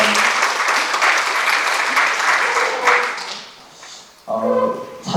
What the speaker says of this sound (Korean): 우리 시장님 박수 더 쳐드릴까요?